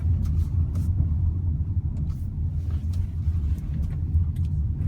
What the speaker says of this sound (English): it drives like you would expect a hybrid between a BMW and Mini to drive